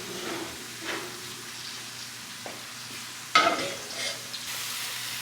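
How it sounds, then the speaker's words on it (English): Pork cooking down in a pan with broth, garlic and mushrooms, giving a soft steady sizzle with occasional stirring scrapes and one sharper clatter, close and fairly loud. "I'm gonna put some broth in there and then some garlic and mushrooms and let that cook down."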